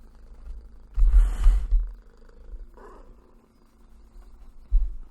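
A pet cat purrs close by on a desk, a low steady rumble with a louder swell early on, heard without talk.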